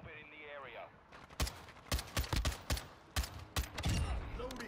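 Bursts of rifle fire from an EBR-14 in a Modern Warfare 2 multiplayer match, sharp repeated shots in quick clusters, loud and close, with an in-game voice at the start.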